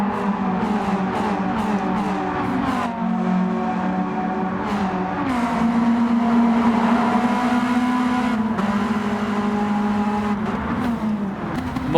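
An Autobianchi race car engine drones through tunnels in Gran Turismo 7, a sustained, loud buzzing note that shifts pitch as it runs, with other cars faintly around and no talk.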